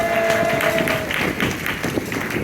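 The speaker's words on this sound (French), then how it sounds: "On va applaudir le Seigneur sur cette vérité ce matin." A church congregation applauds during a morning service, a dense, steady wash of many hands clapping that fills the space throughout.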